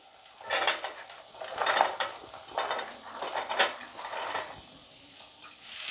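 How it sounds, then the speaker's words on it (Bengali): Chopped vegetables tipped into a hot frying pan for foxtail millet khichdi, with close metallic clatter of a spoon against the pan, light stirring scrapes and a soft sizzle in irregular bursts, no talking. "এবার এই কেটে রাখা সবজিগুলো দেব"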